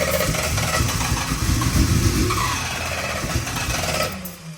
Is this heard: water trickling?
no